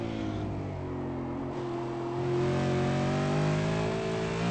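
A V8 Supercar race car in a sim racing game at Oran Park, its engine steadily accelerating. A strong, rising mechanical drone that climbs through the gears and grows louder near the end.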